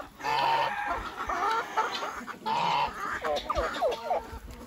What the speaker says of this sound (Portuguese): As galinhas estão cantarolando.